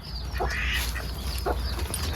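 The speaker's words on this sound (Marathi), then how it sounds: "बदक चालत तिकडं आता." An injured household duck quacking in a few short calls spread across the clip, moderately close over a steady low background hum.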